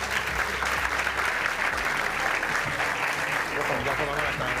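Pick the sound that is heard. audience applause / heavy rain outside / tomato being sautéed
audience applause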